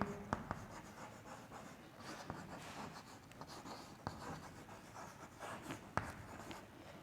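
Writing out a chemical equation by hand, a faint continuous scratching with occasional sharper taps over several seconds, quiet and close, without speech.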